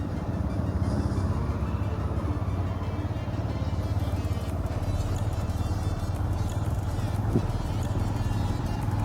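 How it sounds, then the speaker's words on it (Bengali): A car engine labours loudly up a steep mountain road through pine forest on an off-road route from Kurseong to Sittong, a steady heavy low rumble droning without pause from start to finish. "গাড়ি বিশাল আওয়াজ করছে,"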